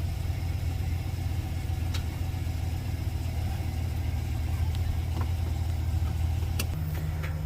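A 2007 GMC Sierra pickup driving along, its engine a steady low drone with road rumble throughout, continuous and moderately loud with no talk.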